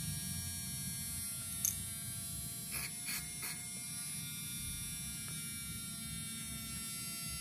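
A small electric motor in a VT chassis, freshly cleaned with spray, runs with a steady high-pitched whine and buzz close by, smooth and continuous, broken only by a few faint clicks.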